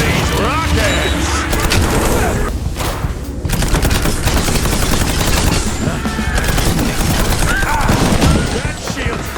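Rockets firing and exploding in the video game Mouse: P.I. For Hire, a loud, dense barrage of blasts and rapid gunfire-like bursts running continuously, with brief dips in the din.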